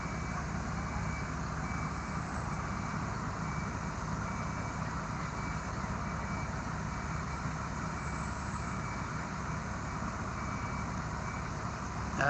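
A truck reversing at a trailer fire to fill a water pool sounds a regular train of high backup beeps over a steady idling engine rumble from a moderate distance, continuing evenly throughout.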